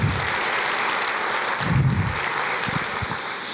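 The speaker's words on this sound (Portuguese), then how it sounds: "Aplauda mais, libere esta unção." Congregation applauding during a church service, a steady wash of clapping that swells and continues throughout, with a few low thumps and no clear speech over it.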